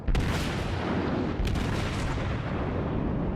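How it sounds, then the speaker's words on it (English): A North Carolina battleship firing a broadside from its 16-inch naval guns in World of Warships, a dense roaring blast that fills the whole stretch, with a second sharp crack partway through, loud and close. "I unmask my aft turret. Shoot a broadside."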